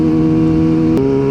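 A motorcycle engine runs at steady high revs, loud and close, with a strong droning hum and a brief shift in pitch near the end, heard under wind on a camera.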